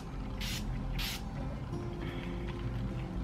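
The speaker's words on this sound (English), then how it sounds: "last step is the setting spray. I'm going to use the Urban Decay All Nighter." Urban Decay All Nighter makeup setting spray pumped onto the face, two quick soft hissing spritzes over a steady background hum.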